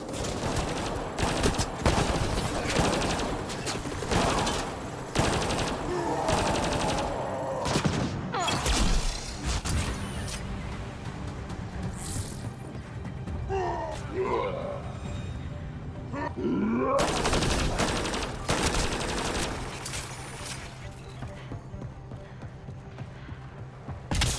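Sci-fi firefight in the video game Mass Effect Andromeda: bursts of rapid gunfire and heavy impacts crowd the scene, with grunting combatants and loud explosive blasts.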